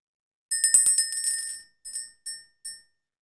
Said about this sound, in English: Oh, let's ring the bell.